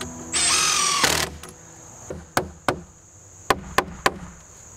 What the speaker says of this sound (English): I am attaching these with 3-inch decking screws